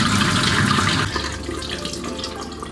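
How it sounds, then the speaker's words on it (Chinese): Running tap water pours steadily over raw beef being rinsed at a sink, a full, close hiss that eases slightly in level after the first second and continues alone. "把牛肉放到流水下冲洗一遍"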